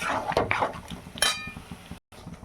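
A utensil scrapes and clinks against a pot as potatoes and peas are stirred and sautéed for mutton-fat ghugni, a few close metallic knocks over low background noise.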